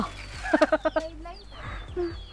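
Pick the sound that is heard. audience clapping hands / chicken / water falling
chicken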